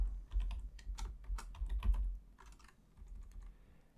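Java code is typed on a computer keyboard as a quick, irregular run of close key clicks with short pauses between bursts, with no talk over it.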